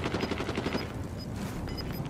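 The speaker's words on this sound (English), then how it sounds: "Yeah, shots over here." Gunfire in Call of Duty: Warzone: a rapid automatic burst of shots, fairly faint and distant, with brief pauses and a few more scattered rounds.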